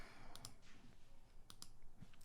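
Computer mouse clicks while working in QLab 4 software: two quick double clicks, then a single click at the very end, sharp and close over a quiet background, with no talking.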